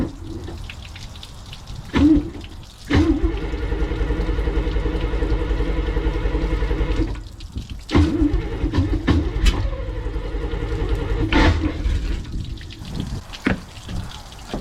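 1987 Formula F-242 SR1 speed boat engine starting up on its first water test: sharp bursts as it catches, then a steady low droning run that cuts out and restarts several times, with splashing water around it.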